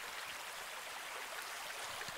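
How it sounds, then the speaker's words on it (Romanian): A small mountain stream in the Hunedoara mountains runs as a steady, even broadband rush of water, moderately quiet and continuous with no voices over it. "Aici, aici este un prăiaș."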